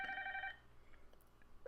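A telephone ringtone sounds briefly and clearly after a call is placed through click-to-dial from a Salesforce web page, followed by faint clicks and quiet room noise.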